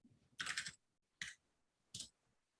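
Three short bursts of typing on a computer keyboard during Java programming work, a longer cluster of keystrokes followed by two brief quick flurries with quiet gaps between, close and fairly loud.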